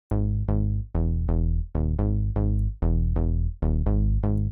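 Serum synth house bass with the noise oscillator filtered: about nine punchy, sustained bass notes in a steady rhythmic pattern, loud and close, with no voices.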